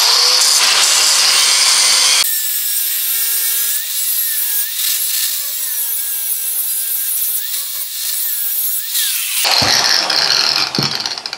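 A power tool cuts off scrap metal pieces in a shop, a loud, harsh grinding whine that runs steadily through the middle with wavering pitch and rougher bursts at start and end.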